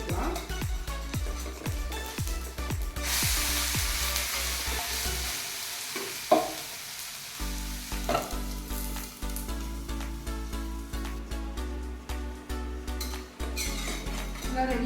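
Gujarati handvo cooks covered in a pan on a low flame, with a steady soft sizzle under repeated scraping and clinking of a utensil against the pan.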